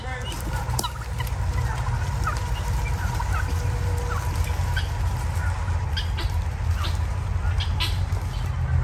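Big birds gobble repeatedly and fairly close while running after people outdoors among trees, their calls mixed with footsteps and a steady low rumble throughout.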